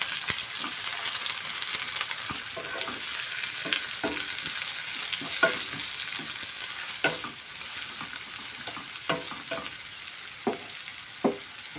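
Onions frying in a pan with blackened cumin and bay leaf for chana masala, a continuous sizzle with occasional sharp stirring knocks, no talking.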